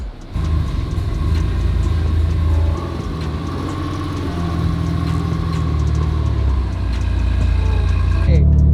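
A Mazda RX-7 pickup's engine runs steadily with a low, rumbling drone throughout, close and loud, with a slight shift in tone near the end.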